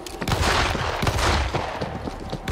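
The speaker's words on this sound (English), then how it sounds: "That's gunfire. From the bus." Dense, continuous bursts of gunfire in the zombie shooter World War Z Aftermath, rapid overlapping shots forming a loud fusillade with machine-gun-like rattling throughout, no talking.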